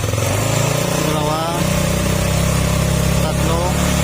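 A Yamaha Mio Sporty scooter engine runs close by with a steady, buzzing tone that rises twice as the throttle is twisted, then settles back, filling the whole clip without a break.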